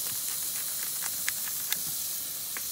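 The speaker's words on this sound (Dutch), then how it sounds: "En laten we ze eventjes lekker bakken, want dat moet natuurlijk gebeuren." Ox sausages fry in a pan with a continuous loud sizzling hiss, dotted with small pops and crackles, with no talking.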